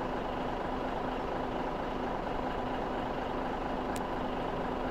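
Steady idling truck engine from Landwirtschafts-Simulator 17, a continuous low diesel drone with a faint tonal hum, holding even throughout with one brief high hiss near the end.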